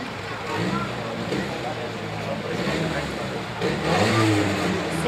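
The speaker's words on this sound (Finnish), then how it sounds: "henkilöauton moottori." A mid-pitched, tuned car engine fitted in a tractor drones steadily and revs slightly at a tractor pulling competition in Vuolenkoski, Finland, close by, with a person talking over it.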